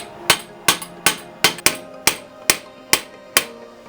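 Nine sharp, evenly spaced metallic hammer taps drive a steel pin into the peg of a Lister clipper comb, each strike ringing briefly with no voices.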